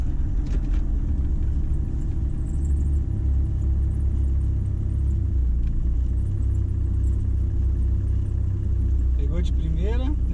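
Steady low engine rumble of a car with a FuelTech FT400 injection system in cool weather, loud and close and holding at an even idle throughout, with a brief rising whine near the end.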